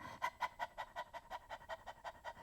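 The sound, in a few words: panting breaths, flute breathing exercise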